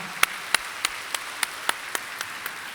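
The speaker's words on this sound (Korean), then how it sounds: "박수하겠습니다." Sparse, slow claps ring out one by one at a Korean Sunday church worship service, each sharp and distinct in a roomy space, about ten in a loose rhythm with no voices.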